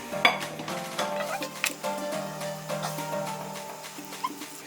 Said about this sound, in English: Once all of that is added in, you want to just give that a mix.